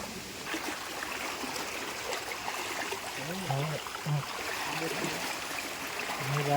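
Stream water flows steadily in a continuous soft rush at moderate distance in the Konkan countryside during crab catching, with a voice murmuring faintly over it.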